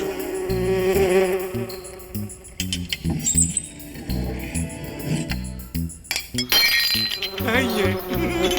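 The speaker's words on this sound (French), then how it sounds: "Va-t'en, la mouche." A cartoon fly buzzes around with a wavering, insistent drone that dips and swerves, cut by brief clinks and effects in an animated scene, fairly close throughout.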